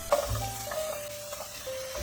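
Steady, soft sizzling of chicken frying in a pan, with occasional light clinks and a faint tonal hum underneath; no talking.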